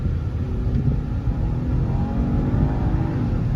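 A 2013 Cadillac CTS 3.0 AWD engine drones steadily from inside the cabin on a test drive, a low continuous rumble with mild revving that swells slightly near the end, no voices over it.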